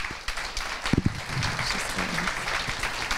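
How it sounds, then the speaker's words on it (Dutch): A small crowd at a Belgian real estate award event breaks into brief, moderate applause, a scattered patter of claps with a few louder hits, somewhat distant in a room. "En we graag een klein applaus voor de eerste."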